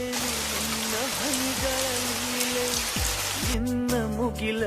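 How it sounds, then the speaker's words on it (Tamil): Heavy rain pours steadily onto surfaces as a dense, constant hiss, with a low droning hum and occasional shifting tones running underneath throughout. "சரியான மழை பெய்யுது."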